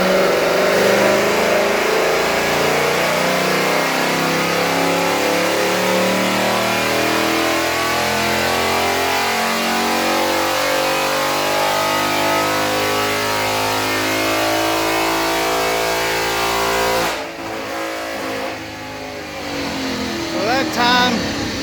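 2019 Ford Mustang GT PP1 V8 on a dyno pull, revving loud and climbing steadily to about 6,800 RPM over roughly seventeen seconds, then dropping off as the throttle closes.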